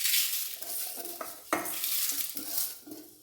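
Washed rice and green gram tipped into a pressure cooker make a close, soft rattling pour with scraping and clinking, in several uneven bursts and no talk.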